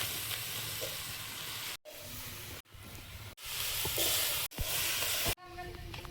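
Oil sizzles and hisses loudly in a pan after salt and soybean oil go in, heard in several bursts split by brief near-silent cuts, with a little stirring scrape along the way.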